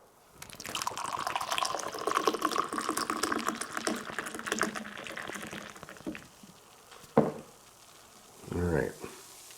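Pepsi Nitro cola hard-poured into a glass, a loud, steady rushing pour and fizzing foam that tails off into a few drips and gurgles, with a brief voice near the end.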